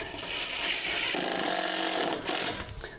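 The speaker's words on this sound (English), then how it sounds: "And I'm not even drilling this all the way in." A power drill drives screws into deck boards outdoors. A whirring motor buzz starts midway through a wash of background noise and runs about a second before stopping.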